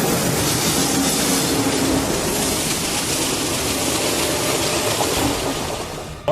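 A GM special train passes along the railway track at Koderma, a loud, steady roar of wheels and rumble filling the whole stretch, close by, before cutting off abruptly at the end.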